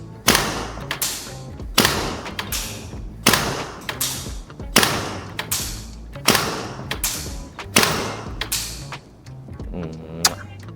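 Airsoft rifle shots from a GHK AR fitted with a Magnus PRO hop-up, about eight loud, sharp bangs evenly spaced roughly a second and a half apart, each ending in a short decaying rattle.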